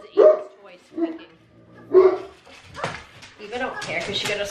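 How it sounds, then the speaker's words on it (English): Several dogs at home barking in short, loud separate bursts, a few yips and whimpers mixed in, set off by a squeaking toy, with some talk and busier barking toward the end. "They're all barking"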